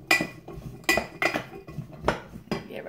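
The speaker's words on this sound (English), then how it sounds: "I just threw them right in my pan" Chunks of sweet potato and carrot are thrown into a metal pan and tossed, giving five or six sharp clattering knocks at roughly half-second intervals, close and fairly loud, with no talking.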